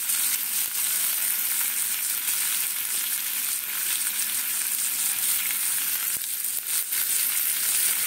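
Potatoes hit a hot oiled pan and fry with a loud, steady hiss and crackle, close up and continuous, with faint stirring scrapes.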